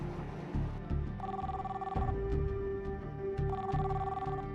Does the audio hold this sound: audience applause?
no